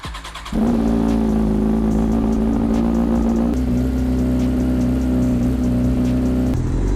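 A motorcycle that sat unused for two weeks cold-starts, then settles into a loud, steady, throbbing idle that runs close and unbroken to the end.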